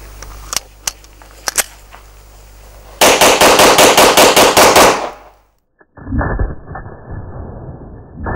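A Smith & Wesson M&P 2.0 9mm pistol fires a few spaced single shots, then a fast, loud string of rapid shots, followed by a brief silence and muffled, lower-fidelity noise.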